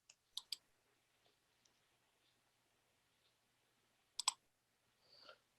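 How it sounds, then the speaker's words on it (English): A computer mouse clicking during CAD work, a few sharp, quiet clicks in quick pairs separated by long near-silent gaps in a still room. "right mouse click it and say copy"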